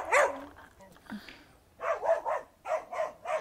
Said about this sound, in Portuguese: Era uma boia de baleia e ele ficou latindo tá